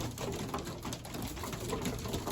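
Pigeons coo softly and repeatedly against a busy background of rustling and low noise, with no talking.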